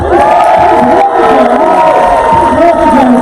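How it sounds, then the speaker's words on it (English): A crowd cheers and whoops for models stepping onto the stage at a steampunk convention fashion show, a continuous loud roar of voices with shouts rising above it. "you can cheer for them"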